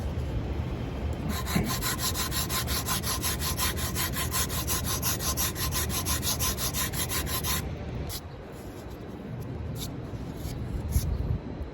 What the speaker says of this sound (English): So I will sand pretty aggressively here, and then I'll start to feather out to these areas on the outside.